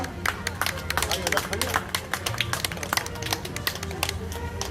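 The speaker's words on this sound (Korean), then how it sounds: "여러분 다시 한번 환영의 박수 보내주시죠" Audience at a Korean neighborhood residents' general assembly claps to welcome a speaker to the stage, a moderate room-filling applause of many hands, steady for several seconds.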